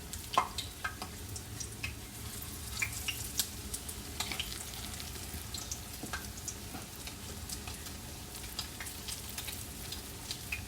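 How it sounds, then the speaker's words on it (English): Salmon patties fry in hot grease in a pan, giving a steady crackling sizzle with scattered sharp pops throughout, close and continuous with no talking. "Remember to always lay it away from you so the grease will not pop up on you."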